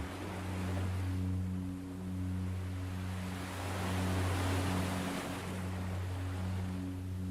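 Ocean surf rolls in slow, continuous swells of broad hiss, rising and falling in long waves over a steady low hum, with no voices.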